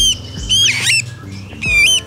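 Harsh, raspy squawks of a sooty-headed bulbul ring out close by in three separate bursts with brief pauses between them.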